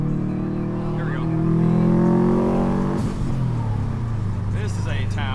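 A 2002 Subaru WRX wagon's engine pulls hard from close inside the car, its tone climbing steadily, dropping at a gear change partway through, then building again.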